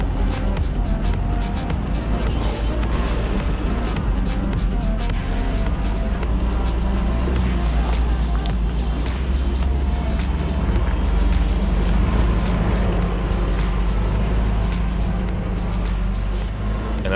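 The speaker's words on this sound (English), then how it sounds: "go down to first gear when you're descending like this" Vehicle crawling down a steep route in Chloride Canyon in manual first gear, a steady low engine drone with rumbling and rattling over rough ground throughout, close and continuous.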